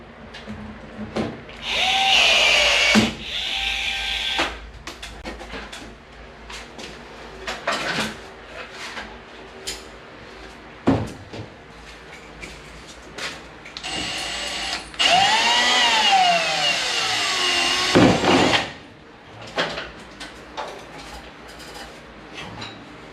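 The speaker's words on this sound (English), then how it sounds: "there's a foam piece on the drill, because when he pokes through" A power drill fitted with a foam piece whirs in a few sustained bursts drilling through PVC, revving up and down, with clattering handling noises between runs and no talking.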